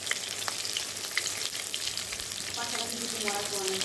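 Eggplant pieces seasoned with salt and turmeric sizzle steadily in hot oil, frying until crisp, with a few soft stirring scrapes. The sound is quiet and close, and a faint voice creeps in near the end.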